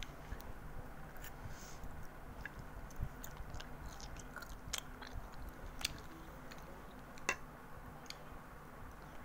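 Close-up eating with steady soft chewing and small crunchy bites, punctuated by sharper clicks, faint and continuous without talk, from someone eating spicy food.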